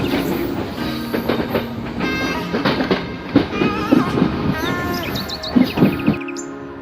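A train at Ganemulla railway station in Sri Lanka, with wagons rumbling and clattering past nearby amid a busy platform hum. Brief horn-like tones ring out, and birds chirp in the background.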